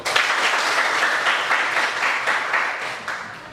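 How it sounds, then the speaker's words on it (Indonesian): A classroom of students clapping together in steady, dense applause for a woven bamboo and rattan craft, close and continuous through the short stretch. "Coba tepuk tangan semua."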